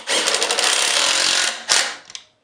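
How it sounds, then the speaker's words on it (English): A Tapcon concrete screw with a washer is driven into a masonry wall by a power driver, one loud continuous whirring grind lasting over a second, then a short second burst that fades out. "and just screw it into the wall."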